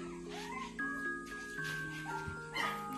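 A tiny newborn border collie puppy whimpers in a string of thin, high, wavering whines and yips, several overlapping cries close by over a faint background.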